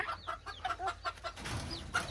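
Baby chicks chirp at a farm stay, a quick run of high, thin peeps and cheeps close by with short gaps between them, fading into faint background noise, with a last chirp near the end.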